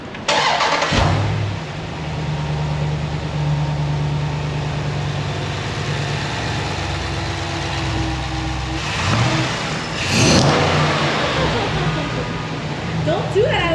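Jeep Grand Cherokee SRT with a cold air intake cranks and starts close by, then settles into a loud steady rumble with a couple of revs near the end, while people talk in the background.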